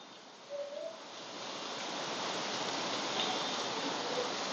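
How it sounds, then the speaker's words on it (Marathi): Rain falls in Pune as a broad, steady wash of hiss that swells slightly after the first second and then holds constant, fairly soft and without voices. "पुण्यातही पाऊस आहे"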